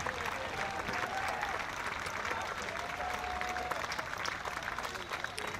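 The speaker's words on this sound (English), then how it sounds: "So a really good round of applause for Roy Turnham by every single stand here." Crowd in the stands applauds a substituted England player at the IBSA Blind Football European Championships, England versus France, a dense, sustained clatter of clapping that holds steady throughout.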